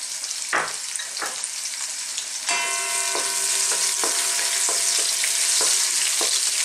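Chopped onion sizzles in a pan with ginger and garlic, a steady hiss that swells as the onion goes in, punctuated by the clicks and scrapes of stirring.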